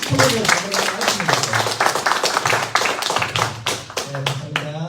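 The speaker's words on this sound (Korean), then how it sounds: "그러면 다 같이 김성모 목사님의 제안대로 다 함께 박수로 제청하면서 총회를 진행하도록 하겠습니다." Attendees at a medical cannabis association's annual general meeting clap together, sharp hand claps from a small crowd in a quick, uneven rhythm that taper off near the end, with voices mixed in.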